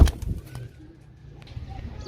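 Pigeons in a loft give a few low, murmuring coos up close, followed by quieter stretches with faint rustling and a brief burst of coos near the end.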